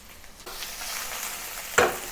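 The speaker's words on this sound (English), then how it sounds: "Lay the shrimp single layer in a skillet with some oil over medium heat and let them sear on one side first" Shrimp sear in oil in a skillet over medium heat, giving a steady, fairly quiet sizzle that starts abruptly and is followed by a single sharp crackle near the end.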